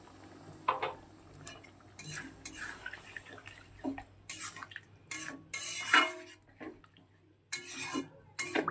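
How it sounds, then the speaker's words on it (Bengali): Water added to a cooking pot on the stove, with scattered clinks and scrapes of a spoon against metal and brief splashing pours in separate bursts, close and moderately loud. "আরও একটু জল দিয়ে দিলাম।"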